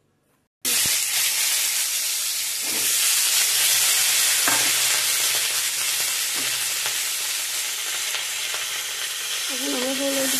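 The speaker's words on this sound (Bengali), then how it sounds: "এখন আমরা এই কলাগুলো ভাজবো।" Sliced bananas drop into hot oil in a pan and burst into a loud, sustained sizzle, with occasional clinks of a utensil and a faint voice toward the end.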